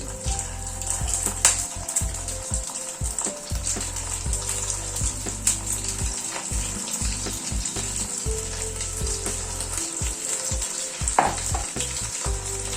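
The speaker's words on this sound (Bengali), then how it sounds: "সয়াবিনগুলো ছেড়ে দিচ্ছি।" Soybean chunks fry in white oil in a kadhai, giving a loud, steady sizzle and crackle with frequent clinks and scrapes of a stirring spoon throughout.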